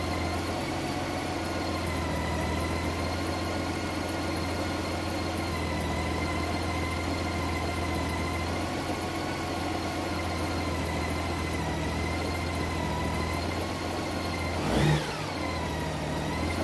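A Honda Goldwing motorcycle engine idles during warmup, a steady even hum held at constant pitch for the whole stretch, close and moderately loud, with one short rise near the end and no talking.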